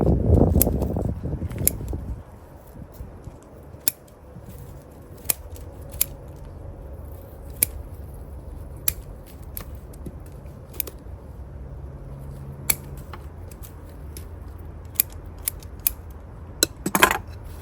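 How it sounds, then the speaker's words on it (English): Scissors prune a Satsuki azalea back to shape, giving a run of sharp, close snips at uneven intervals over a quiet background. A few snips come in quick clusters near the end. "I'm just pruning back to shape because I know that they bud back very, very easily."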